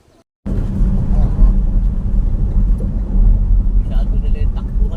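Motorcycle engines rumble steadily and loudly at Port of Abra de Ilog in Occidental Mindoro, a dense continuous drone starting abruptly and persisting throughout, with voices talking over it.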